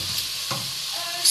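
Vegetables sautéing in a pan, a bright steady sizzle with a brief stirring scrape partway through and a louder hiss at the very end.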